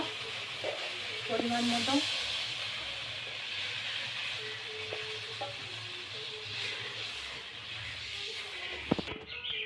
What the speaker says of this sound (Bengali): মশলা আমার ভাজা হয়ে গেছে। এবার জল দিয়ে দেবো ঝোলের জন্য